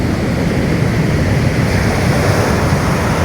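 Surf rolls in at Selili beach in Yogyakarta, a loud, continuous broadband wash of breaking waves with no distinct pauses and no voices.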